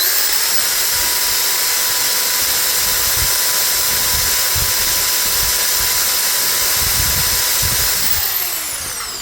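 A Hitachi electric drill running at full speed gives a steady high-pitched whine with a constant motor tone, loud and close, then begins winding down at the very end.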